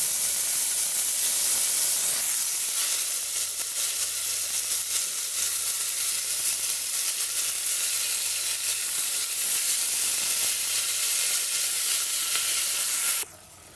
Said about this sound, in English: Adding my beef in the pot.